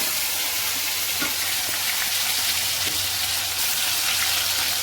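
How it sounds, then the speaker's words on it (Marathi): Tomatoes fry in hot oil with cumin for a mixed vegetable bhaji, a dense, even hiss that stays loud and constant throughout, with a few faint soft knocks underneath and no talk. "जिरे टाकून झालं की आपण याच्यामध्ये टमाटे टाकून घ्यायचे"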